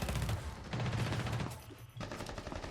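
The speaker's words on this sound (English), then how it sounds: "Gunfire from above" Rapid gunfire bursts in a competitive match of a tactical shooter, loud and close with a short gap before firing resumes, continuing in quick repeated shots.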